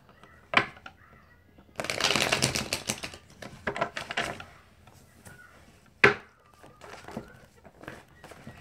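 A deck of tarot cards is shuffled, giving a quiet rustling riffle lasting about a second, surrounded by scattered soft taps and clicks of cards being handled.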